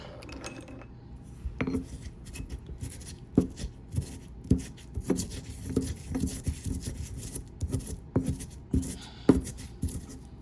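Herbs being crushed in oil for a homemade flea remedy for dogs, with irregular knocking and grinding taps of a pestle against a bowl, close and fairly loud, scattered clicks between the firmer strikes.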